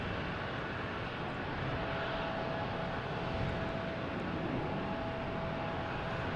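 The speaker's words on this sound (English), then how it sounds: "Something just landed. There we go. It's a JetBlue coming in from Orlando." A JetBlue airliner landing at Boston Logan Airport heard as a broad, steady distant engine roar with a faint thin whine running through it, no voices.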